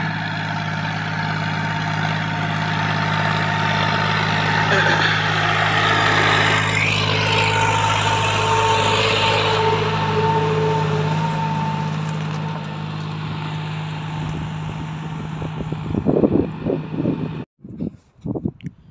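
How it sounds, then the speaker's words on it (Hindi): A John Deere 5039D tractor, a 41 hp machine set up with a 16-disc harrow, runs with a loud, steady diesel drone close by. It fades somewhat toward the end, then gives a few rattling knocks before cutting off abruptly. "आज की जो वीडियो है जॉन डियर 5039D ट्रैक्टर की है।"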